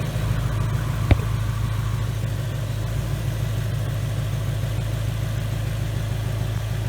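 A 2019 Mustang's rebuilt engine idles steadily and smoothly with a deep, even rumble and constant low throb, close by, with one brief click early on.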